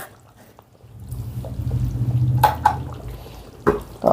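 Chicken curry finished with garam masala is tipped into a serving bowl, giving a low, thick, wet pour that swells for a couple of seconds, with a few sharp clinks of the pan near the end.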